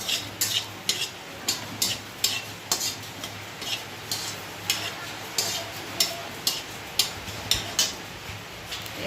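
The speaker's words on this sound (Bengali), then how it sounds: "2টো শুকনো লঙ্কা ছিঁড়ে দিয়ে দিলাম তেলে, আর একটা তেজপাতা মাঝখান দিয়ে ছিঁড়ে দিলাম" Dried red chillies and a torn bay leaf sizzle in hot oil in a pan, a steady crackling hiss punctuated by regular sharp taps and scrapes of a spoon against the pan, close and without talking.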